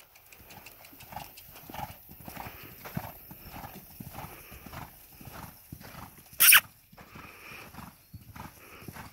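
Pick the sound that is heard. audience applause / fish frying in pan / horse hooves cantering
horse hooves cantering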